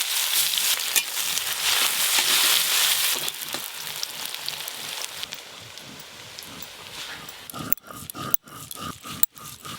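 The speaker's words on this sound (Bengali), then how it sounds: "তাই ওই তেলে আরেকটু তেল দিয়ে বেরেস্তা ভেজে নেব" Sliced onions fry in hot oil into crisp beresta, a dense, loud hiss of sizzling that holds steady, then breaks into a few sharp knocks near the end.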